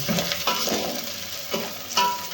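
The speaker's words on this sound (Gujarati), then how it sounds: "ડુંગળી હવે ઘણી ખરી પાકી ગઈ છે" Onions frying in a pan for Maggi noodles, stirred with a few scraping bursts over a steady close sizzle.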